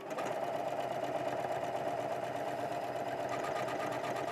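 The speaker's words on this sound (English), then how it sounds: "I'll just do a standard buttonhole for this one just so you can see how the cord is going to work." A sewing machine with a buttonhole foot stitches a corded buttonhole, running as one steady, close, continuous mechanical whir with a fast even stitching rhythm, and no talk over it.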